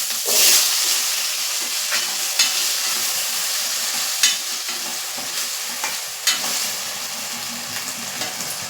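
A chopped potato stirred and fried over low gas for a Gujarati onion-potato dish; continuous hissing sizzle with periodic spoon scrapes and taps against the pan, close and steady, without speech.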